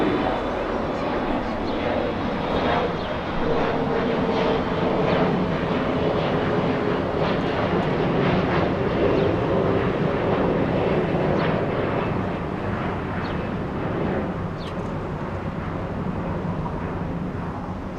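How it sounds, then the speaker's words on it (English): A SkyWest Embraer E175 jet departs Los Angeles International Airport for Austin, Texas, a broad, loud engine roar sustained throughout with some mixed-in background noise. "SkyWest 5312, heading to Austin, Texas. That's an Embraer"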